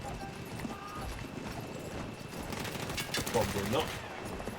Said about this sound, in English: It's a horse!